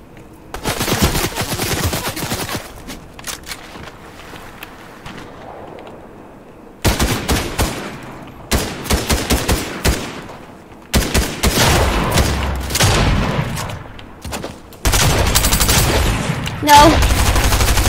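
Rapid bursts of video game gunfire from Fortnite come in several loud, dense volleys separated by short gaps, with machine-gun rattles and single shots close up.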